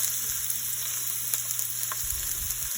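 Onions hitting hot oil already flavored with bay leaves in a pan, a bright steady sizzle with a few sharper pops and light stirring sounds, close and continuous.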